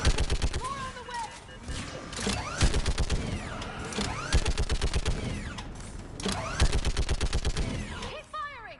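Rapid bursts of gunfire from a Mass Effect 3 battle on a bridge against enemy troops, with dense repeated volleys and sharp single shots layered over battle noise, loud and close, with voices shouting under the firing.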